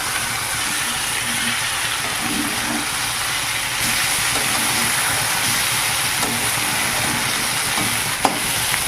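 Taki or chang fish sizzle steadily in a frying pan as they are turned, a constant hiss with faint scraping and no talk.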